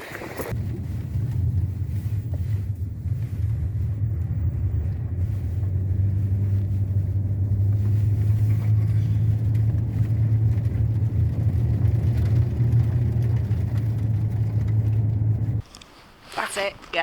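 Steady low engine rumble and road noise inside a car climbing Norway's Sognefjellet mountain pass hold for a long stretch, with talking over the drone before it abruptly drops away near the end.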